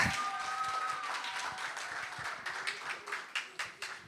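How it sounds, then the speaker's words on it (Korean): Scattered audience clapping greets a contestant at a Korean speaking contest for international students, faint and sparse at first, then thinning to a few distinct claps near the end. "서울대학교 헨리 참가자를 박수로 맞아주시기 바랍니다"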